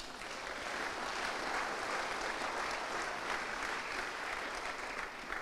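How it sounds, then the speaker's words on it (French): A church congregation at a conference applauds, a dense, steady wash of clapping from many hands that holds evenly for several seconds. "Acclame-toi toi-même."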